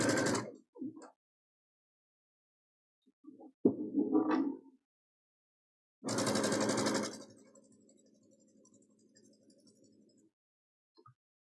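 A home sewing machine stitches the seams of a fabric table runner, a steady motor whir running for about four seconds and then slowing into a low, fading hum, preceded by brief bumps and handling noises in an otherwise quiet room.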